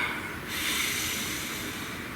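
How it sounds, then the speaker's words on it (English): One long, deep breath drawn in and let out slowly, close to the microphone, a soft steady airy rush lasting about two seconds in a quiet room. "Nice deep breath."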